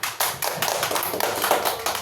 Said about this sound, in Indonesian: Tepuk tangan ke kita semua